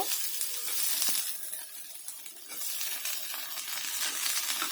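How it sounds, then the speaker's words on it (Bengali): Onion frying in hot oil in a wok for an egg curry, a close, steady hiss and crackle with a few sharp pops and a slight dip in the middle before it swells again. "তেল গরম হয়ে গেলে পেঁয়াজটাকে ভাজা করে নেব"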